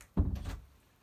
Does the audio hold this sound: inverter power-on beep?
no